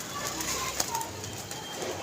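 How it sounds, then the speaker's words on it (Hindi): Pigeons cooing softly at a rooftop loft during pigeon catching, low steady coos under faint background noise with a brief flutter, no talk. "ये आ गया जी कबूतर"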